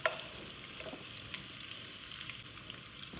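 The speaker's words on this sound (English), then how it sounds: "we start by warming our oil, vegetable oil on medium heat," Onions sizzle and crackle in vegetable oil warmed over medium heat for a Bolognese sauce, a steady close frying hiss with occasional small pops and no talking.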